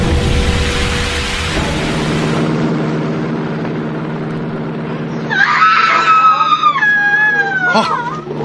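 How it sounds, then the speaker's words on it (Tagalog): A woman's loud, drawn-out scream, wavering and rising, comes in partway through a radio horror drama about an aswang, above a low droning ambient music bed. "Sigaw ng isang babae."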